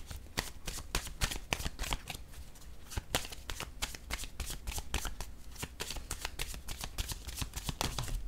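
Tarot cards being shuffled by hand, a dense run of rapid crisp riffling snaps and flutters with a steady rhythm, close and fairly loud, with no talking.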